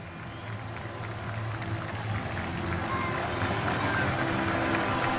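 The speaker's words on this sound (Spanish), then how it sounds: "Ingresan los equipos, el aplauso del público para recibir a Olimpia y Guaraní aquí en el país." A football stadium crowd in Ciudad del Este applauds as the Olimpia and Guaraní teams walk out, a broad, steady wash of clapping and murmur that swells slightly toward the end.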